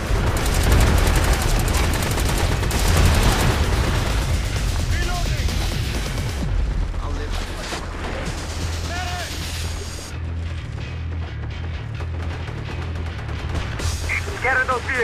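Artillery barrages and heavy gunfire pound a battlefield in the MAG shooter game, a dense, loud roar of blasts and shots that stays thick at first and then thins into scattered bursts, with voices talking over it.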